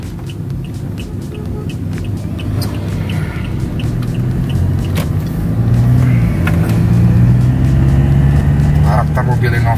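Cabin hum of a Toyota Innova Venturer fitted with an HSR lowering kit, rounding a turn a little fast; a steady engine drone and road rumble that swells gradually, with someone talking over it.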